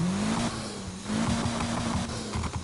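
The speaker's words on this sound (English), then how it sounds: "Instead of it being inline 4, which would sound like this." An inline-4 engine in a 2007 Mitsubishi Lancer Evolution inside a video game revs steadily, its droning tone rising slightly and holding, moderately loud with no talking.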